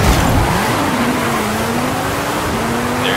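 Formula Drag Viper with 1,737 hp in Forza Horizon 5 holds a steady, loud engine drone with a rising then level pitch, a sustained high-revving tone running the whole stretch without pause.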